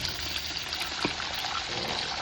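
Boiled water pours into a pot in a soft, steady trickling stream, fairly quiet, with a small clink partway through.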